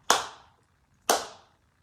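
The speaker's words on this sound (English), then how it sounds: "We clap on 2 and 4 and not the 1 and the 3" Two sharp, close hand claps land about a second apart with silence between them, clapped on the beat with no voices.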